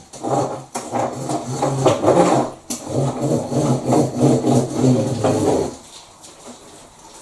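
A paddle roller works fibreglass mat soaked with resin in short repeated strokes, giving a close, steady rolling and rubbing texture that stops near the end.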